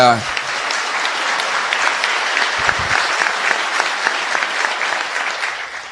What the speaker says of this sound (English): I appreciate you applauding our troops.